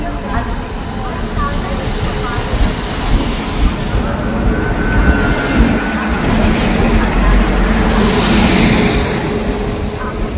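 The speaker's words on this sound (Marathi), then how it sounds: "ते इकडून आता ट्रेन येईल." A train pulls into a crowded railway station with a growing rumble and clatter of rail cars that swells toward the end, with voices of the crowd mixed in throughout.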